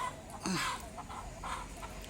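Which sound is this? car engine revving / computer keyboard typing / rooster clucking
rooster clucking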